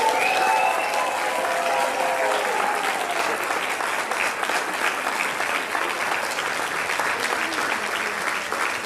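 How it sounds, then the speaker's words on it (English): Sustained applause from an audience at a school district board of education meeting, steady and full for the whole stretch, with a brief voice near the start. "please put your hands together for Ms. Jenna Restivo"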